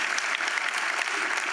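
Dense, even applause from a church audience at a weekend gathering, a continuous wash of many hands clapping with no break and no talking.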